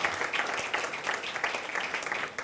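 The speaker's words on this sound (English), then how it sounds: "Can we give him a round of applause?" Guests at a church leaders' and counselors' breakfast meeting applaud their pastor, brisk, moderately dense clapping with slight pulsing, fairly close and continuous for a couple of seconds.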